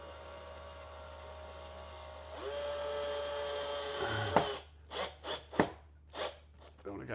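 A power drill bores a screw hole for a small countersunk screw into soft board: a steady motor whine of about two seconds, then several short, louder bursts of grinding as the bit bites.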